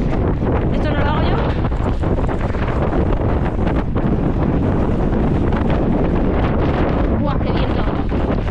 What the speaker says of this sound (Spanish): ¡Guau, qué viento!